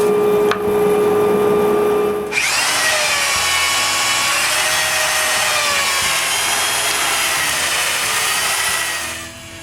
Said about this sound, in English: I trace the vertical posts and cut them.